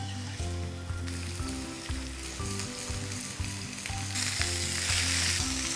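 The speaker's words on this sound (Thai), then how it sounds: "ในกระทะนะครับผมตั้งไฟร้อนๆเลยครับใส่น้ำมันลงไปคอยให้น้ำมันร้อนดีก่อนนะครับ" Pork pieces fry in hot oil in a pan with a continuous crackling sizzle, marked by dull knocks as the food is moved. The hiss grows louder and denser toward the end.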